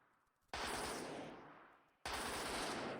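Minecraft gun firing in a weapon-mechanics plugin setup, two long bursts of rapid, dense gunfire, loud and close, the first fading before the second starts abruptly, with no talk over it.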